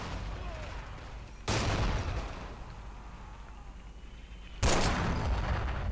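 Grenade blasts and gunfire in the World War II shooter Forgotten Hope 2, set in the Hurtgen Forest: two loud, sharp explosive bursts about three seconds apart, each with a lingering rumble, over a steady bed of distant battle noise.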